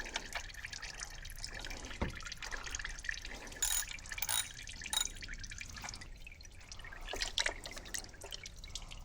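Hot engine oil draining from the drain plug of a Volvo XC90, a close, steady trickle with irregular drips and splashes into a pan, continuing throughout without talk.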